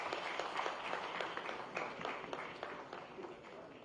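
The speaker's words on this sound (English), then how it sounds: "Please give a round of applause." A conference audience applauds with a steady wash of many hands clapping, moderately distant and even in level, with no talking over it.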